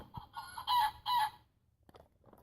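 A toy bird from the Ugliest Pet Shop line plays electronic squawking noises, a few short bursts and two louder rooster-like crows in quick succession, close and alone.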